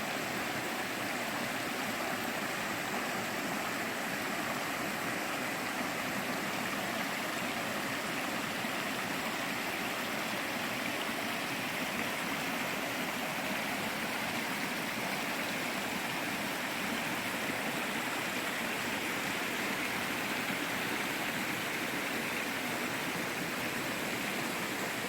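A mountain brook along a hiking trail rushes steadily, a dense, continuous close-up wash of flowing water over rocks and roots that holds even and loud throughout with no voices.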